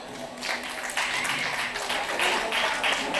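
An audience claps for a women's movement conference panel facilitator, a steady dense patter of hands in a hall, fairly loud and sustained after a brief quieter start.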